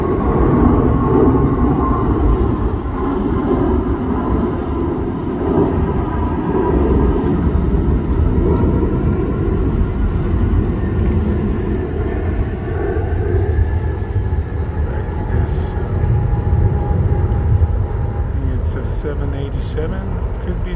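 A Boeing 787 Dreamliner airliner flying overhead gives a steady, loud, broadband roar that holds for about twenty seconds, with faint voices underneath.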